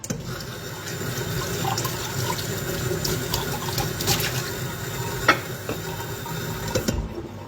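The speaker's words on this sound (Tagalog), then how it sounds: "Lalagay lang ako ng tubig." Water runs steadily from a tap into a cooking pot in a Filipino home kitchen, a continuous close splashing rush that lasts throughout.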